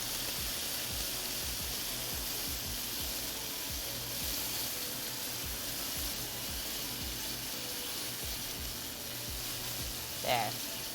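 Bison bacon frying in a pan, a steady close hiss and crackle of sizzling fat running throughout, with one brief scrape of stirring near the end.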